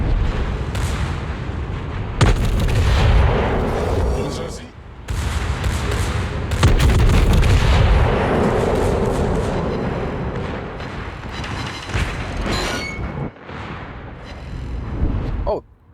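Warship guns in a naval video game fire at an enemy Bismarck, with heavy booming salvos repeating through the clip, loud and close, while a player talks over the action.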